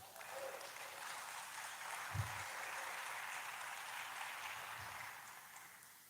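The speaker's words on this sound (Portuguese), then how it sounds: "Aplaude Jesus." Church congregation applauding during a Portuguese-language sermon, a faint, steady wash of clapping from a large room, fairly distant with no voice on top.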